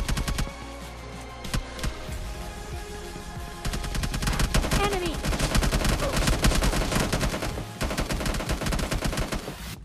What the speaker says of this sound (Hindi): ये AKM में सुप्रेसर कब लग गया यार